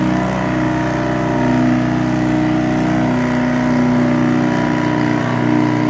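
An antique tractor engine roars loud and close during a tractor pull, holding a heavy, steady drone with swelling revs as it digs and pulls.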